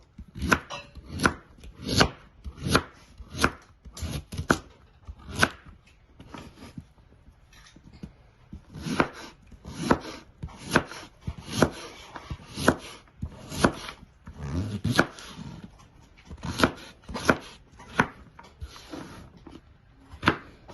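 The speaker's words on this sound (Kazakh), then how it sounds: "Морковты турап аламыз." Carrots chopped with a knife on a cutting board: quiet, close, rhythmic knife strikes in quick bursts with short pauses between runs.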